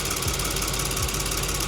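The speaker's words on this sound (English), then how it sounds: "Yours revs a lot higher than the other guys." A Volkswagen Atlas engine runs loud and close, a steady droning hum with rhythmic mechanical pulsing and no talk over it.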